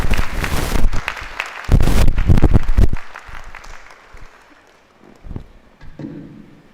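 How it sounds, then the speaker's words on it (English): An audience at a university inaugural session applauds the chief guest, a loud burst of clapping that fades out after about three seconds, followed by quieter shuffling and a few thumps. "Let's give him a big round of applause."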